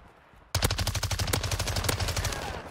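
Rapid automatic gunfire from Call of Duty: Modern Warfare 2 multiplayer, an MX9 submachine gun, bursts in loudly after a brief quiet start and keeps rattling in a dense, steady stream of close shots.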